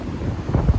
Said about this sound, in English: it's pretty crazy windy out here.